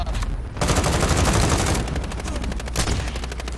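Automatic gunfire in Call of Duty Warzone rattles in rapid, close bursts, loud and sustained with a brief pause near the start.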